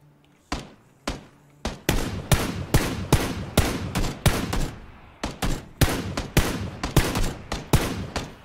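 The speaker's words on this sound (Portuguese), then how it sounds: "eu tô acertando o tiro que não chega no cara" Rapid gunfire in the video game Battlegrounds: a long string of sharp, close single shots fired in a fast, fairly regular rhythm, each with a short echoing tail, loud and alone.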